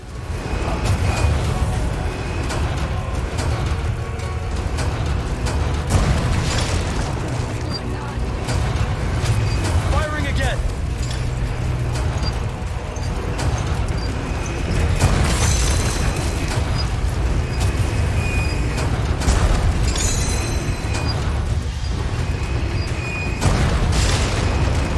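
Catapult projectiles burst in heavy booms across Resident Evil 4 Remake, loud and recurring amid constant rumbling battle noise, with a voice talking over the chaos.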